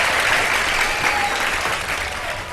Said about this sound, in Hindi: तीनों टीम्स के लिए बहुत सारी तालियां